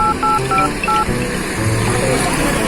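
A mobile phone number is dialed in a Chhattisgarhi comedy sketch, a quick run of bright keypad tones in an uneven rhythm, followed by a longer tone, over steady background noise and voices.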